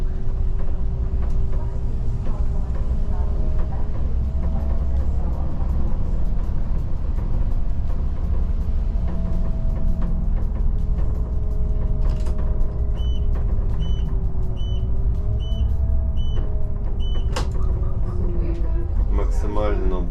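An Electron electric city bus runs on route 24 in Uzhhorod with a steady low drive hum and a rising-and-falling motor whine, cabin rattles, a repeating door chime near the end, and occasional voices throughout.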